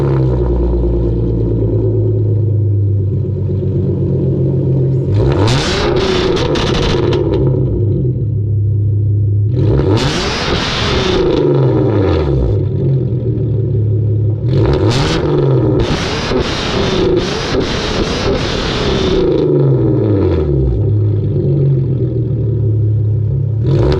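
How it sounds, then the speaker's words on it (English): A warm Hyundai Genesis Coupe fitted with NGM headers idles with a deep rumble, then is revved hard three times in separate surging bursts that fall back to a steady, throaty idle between pulls, loud and close. "We'll start this off with a warm start and some revs."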